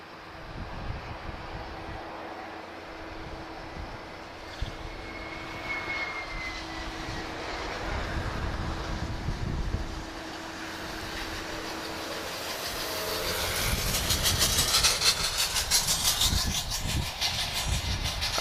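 German Air Force military aircraft on approach to Lisbon Airport: distant jet engine roar swelling steadily louder and closer, peaking toward the end.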